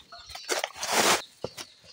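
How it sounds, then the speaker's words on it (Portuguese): A loose farmyard chicken clucks in short, uneven bursts, close and moderately loud, with quiet gaps between calls. "A galinha tá solta de novo."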